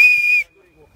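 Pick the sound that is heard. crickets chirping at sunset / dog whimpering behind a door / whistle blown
whistle blown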